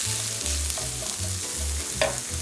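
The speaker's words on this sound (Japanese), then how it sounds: "ごま油温まったら人参と長ネギをもう一緒に入れて炒めていきましょう。" Carrots and leeks stir-frying in sesame oil in a pan for a nursery-school mapo tofu, a close, steady sizzle with a thumping scrape-and-toss rhythm and one brief clatter near the end.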